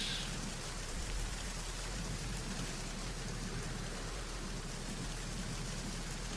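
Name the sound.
rain in Metal Gear Solid 2 video game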